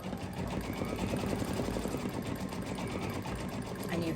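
An embroidery sewing machine stitching out the first part of a gnome design on a Halloween tea towel, running with a steady, fast mechanical whir and rapid needle chatter throughout.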